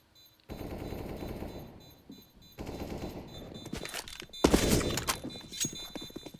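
Counter-Strike gunfire on the Cache map: heavy rifle volleys and rapid automatic bursts crackle in overlapping waves with thuds, loud and dense throughout, with no talk over them.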